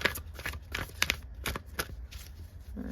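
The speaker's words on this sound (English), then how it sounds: "I'm going to shuffle this one first." A deck of tarot cards being shuffled by hand in a quiet room, with rapid, crisp riffling and flicking bursts repeating in an uneven rhythm, close to the microphone.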